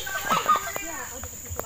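A chicken clucking nearby in a village setting, a few short clucks and squawks in quick succession against a steady high electrical hum, with people talking nearby.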